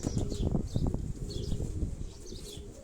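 A breeding pigeon flaps its wings on a Karachi rooftop loft, giving a quick run of soft, close fluttering beats with no one speaking.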